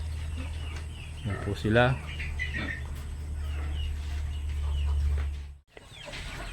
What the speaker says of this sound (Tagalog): yung mga manok natin naghihintay na